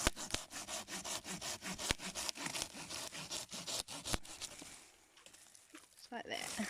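A Silky pull-stroke hand saw cuts through gorse wood outdoors in a quick series of rasping strokes that slow and fade toward the end, with some speech in the background.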